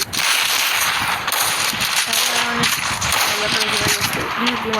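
Repeated sharp shotgun blasts in Free Fire, fired in quick bursts over dense game noise and background chatter.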